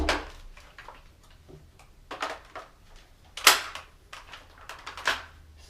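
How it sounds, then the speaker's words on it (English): Gas-powered airsoft gun firing a handful of sharp, snappy shots at irregular intervals, each a crisp crack with a brief mechanical clack, fairly close and moderately loud over a quiet room. "It's a gas gun, nice and snappy"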